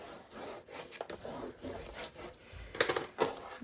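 A burnishing tool rubs firmly over scored paper for a handmade mini album, soft close scraping strokes that end in a few sharper rubs, quiet with no speech.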